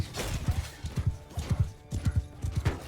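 Cavalry horses gallop in the video game Mount & Blade II: Bannerlord, a fast rhythmic drumming of hooves in repeated clusters, loud and close, with a faint battle din behind.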